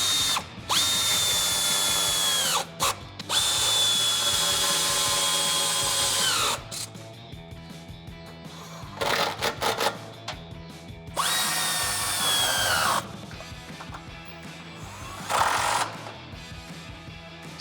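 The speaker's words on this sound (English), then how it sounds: "So go ahead and tighten these up with our ratchet." Nuts and bolts are tightened on rock rails fitted to a two-door Jeep Wrangler JL, with loud, sustained whirring bursts from a powered driver alternating with quieter stretches of clicking and fiddling, close and without talk.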